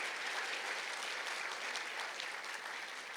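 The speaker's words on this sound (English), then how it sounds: "Give her another round of applause." A crowd at a Christmas dinner and awards night gives a round of applause, a dense, even wash of clapping that holds steady and fades slightly at the end.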